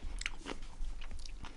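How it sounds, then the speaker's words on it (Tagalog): Crunchy bites into fresh pickled vegetables soaked in a mixture, with close crisp snaps and chewing over about a second and a half, no talking. "Maririnig yun naman. Malutong siya, diba? Kasi for sure fresh siya."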